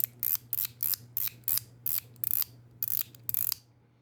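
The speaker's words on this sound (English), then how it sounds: "It's a slider, it's a magnetic slider," A magnetic fidget slider makes ten quick clicking slides in a steady rhythm, each a short snappy metallic clack, close and crisp against near silence.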